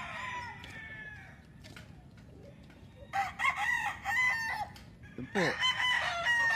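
Chickens at a Philippine breeder's farm cluck and call, and a rooster gives loud, close crowing bursts that come and go over a few seconds. Someone says a couple of words briefly.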